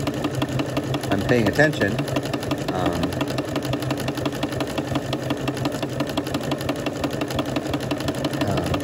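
A sewing machine stitches a fabric-wrapped rope coil with an open-toed appliqué foot, giving a steady fast mechanical whir that runs continuously and close while a person talks over it.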